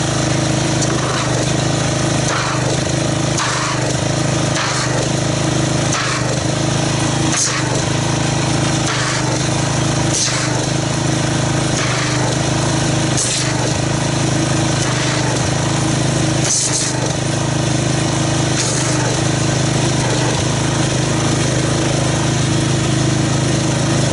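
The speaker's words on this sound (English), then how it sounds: "let's get our pressure washer, agitate this, and see what kind of foam we get" Pressure washer spraying into a bucket of Rain-X wash and wax car soap with carnauba beads, a loud steady engine drone with a hissing water jet that runs throughout, punctuated by sharp spattering bursts.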